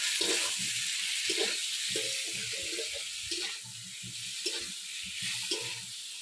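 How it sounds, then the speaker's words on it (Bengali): Sliced pointed gourd sizzles gently in hot oil over low heat for a Bengali prawn curry, a steady close frying hiss with faint soft stirring and knocks, no talk. "এই দেখো তেলে তেলে হালকা আস্তে আস্তে জাল দিচ্ছি"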